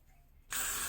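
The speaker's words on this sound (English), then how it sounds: "Put a little bit of spray right here" A short, loud hiss of hair spray from a can, applied over a bald cap, starting abruptly after a quiet moment and held for about half a second.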